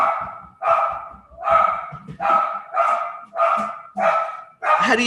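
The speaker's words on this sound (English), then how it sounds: "Sorry, that's my dog." A dog barks repeatedly in a steady series of about eight loud, close woofs, each followed by a brief pause, with a faint voice underneath at the start.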